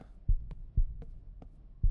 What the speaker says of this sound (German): Dann direkt der Herzschlag von ihr.